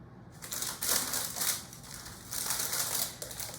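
Parchment paper crinkling as bread dough is wrapped in it by hand in a kitchen, with several close, loud bursts of crisp rustling and crumpling and no talk.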